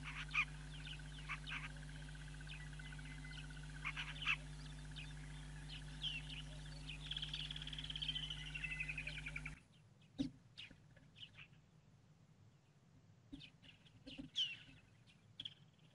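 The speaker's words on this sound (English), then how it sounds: "There's a grey go-away bird calling in the background." A grey go-away-bird calls in the background with repeated nasal cries, steady over a constant low hum at first, then sparser and clearer after the background abruptly drops away.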